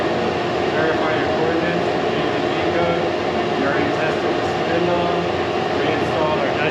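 An Avid CNC router in a workshop runs its homing procedure, producing a loud, steady mechanical drone that holds at an even level with no clear breaks.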